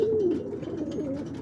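A pigeon cockbird coos in a steady, low, rolling run, close and fairly loud, with faint loft noise behind and no talking.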